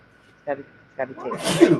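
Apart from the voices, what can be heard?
sneeze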